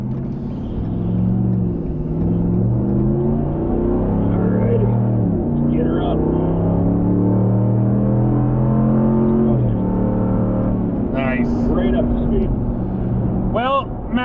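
A Toyota Tundra's twin-turbo V6 revs and climbs through its gears as the pickup accelerates onto a highway, a steady drone inside the cab with people talking over it.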